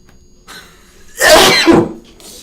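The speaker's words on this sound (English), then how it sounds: "Sneeze loudly." A single loud sneeze bursts out close by, preceded by a quick sharp intake of breath.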